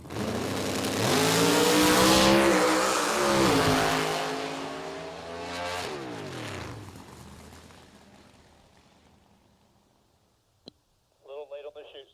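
A nitro drag race car launches down the strip at an IHRA Outlaw Nitro time trial. A loud, roaring engine blast builds, falls away into the distance and fades out, followed by a sharp click and a short burst of voice.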